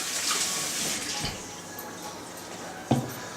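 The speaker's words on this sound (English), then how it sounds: "let me rinse my hand off" Tap water runs and splashes as a hand is rinsed under it, a steady close rush that eases off and ends, followed by a single knock.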